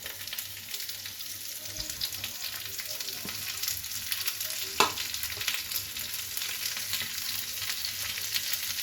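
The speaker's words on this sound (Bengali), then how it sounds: "এবার সব কটাকে একটু হালকা জাস্ট কাঁচা গন্ধটা কাটানোর মতো ভেজে নেব।" Chopped onion, garlic and green chillies fry in oil for a mashed shrimp dish, a continuous gentle sizzle with occasional stirring clinks, fairly quiet and steady throughout.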